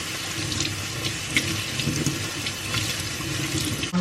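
Green mango and lettuce are rinsed under a running kitchen tap, a steady close splashing stream of water with a brief clunk at the very end. No talking is heard.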